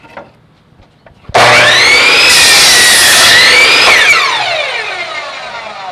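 A miter saw cutting wood, its motor spinning up sharply to a loud whine, biting through the board for a couple of seconds, then winding down gradually.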